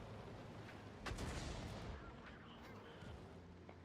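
Artillery guns firing in a video game, a few muffled booms with a heavier blast near the middle, set against a steady wash of game noise with no voice on top.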